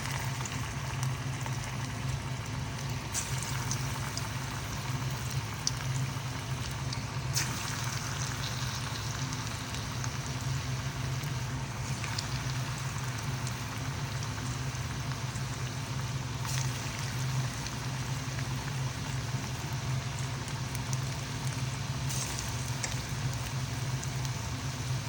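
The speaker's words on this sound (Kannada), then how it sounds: "ಇದನ್ನು ಉಂಡೆ ಮಾಡಿ ಬೋಂಡ ಹಾಕೋಣ. ಕಾದಿದೆ ಎಣ್ಣೆ" Onion bonda batter balls frying in hot oil over a medium flame, a steady, even crackling sizzle that holds level throughout with no talk.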